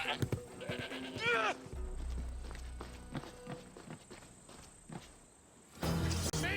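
Goat bleats from the game Assassin's Creed Odyssey, a wavering cry near the start among footsteps and background game sounds, followed by a louder burst at the end.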